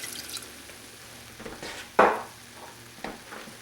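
Tomatoes and white wine hit a hot pan for seafood brodetto: a steady low sizzle with light stirring, broken by one sharp hissing splash near the middle and a smaller one later. No voices.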